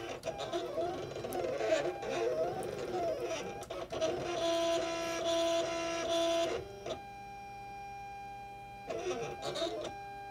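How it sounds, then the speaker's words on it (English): A Cricut cutting machine slices vinyl nearby, a steady mechanical whir with tonal motor hums and carriage movements that pause and resume in bursts, heard alone without talk. "So my machine's over there cutting any moment."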